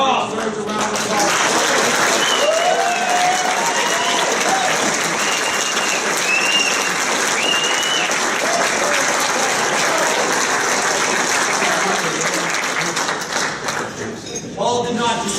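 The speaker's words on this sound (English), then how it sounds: "deserves a round of applause" A crowd at a soccer coach's retirement party gives a sustained round of applause, dense and steady for about fifteen seconds with scattered whoops, tapering off at the end.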